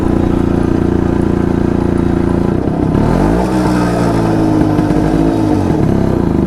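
A Jawa Yezdi D250 Classic two-stroke motorcycle ridden with a pillion passenger, its engine loud and close with a steady burbling putter, then revving and easing through gear changes midway.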